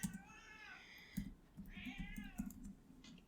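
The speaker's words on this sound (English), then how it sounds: "What a dumb cat." A cat meows twice, a long drawn-out call followed by a shorter rising one, close and clear, with faint clicking like typing in the quiet background.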